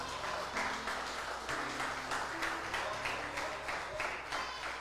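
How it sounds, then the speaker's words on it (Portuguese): A church congregation applauds together, a steady wash of many hands clapping that fills the whole stretch, with faint tonal music sustained underneath. "Pode aplaudir, isso é para ele."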